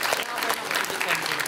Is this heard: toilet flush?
no